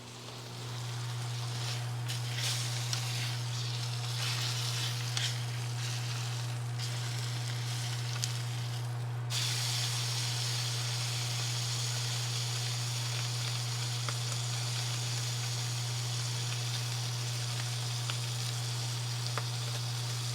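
Wagyu steak sizzling in butter, a steady close crackle and hiss under a constant low electrical hum.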